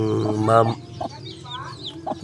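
A loud, close squawking call from a red junglefowl, followed by a few softer clucks and scattered background chirps.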